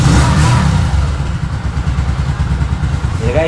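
A 2024 Kawasaki CT125 Bajaj motorcycle idles near the mic, a fairly quiet, steady engine putter that runs throughout while people talk over it.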